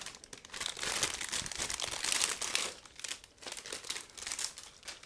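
Crinkling and rustling of plastic and cardboard packaging as a Zvezda 1/35 Elefant plastic model kit box is opened, with close, continuous crackles and tearing.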